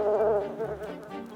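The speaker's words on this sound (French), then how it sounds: "Les abeilles sont à nouveau en colère." Angry bees buzz loudly and close in an animated series, a dense, wavering drone that lasts only a moment with no speech.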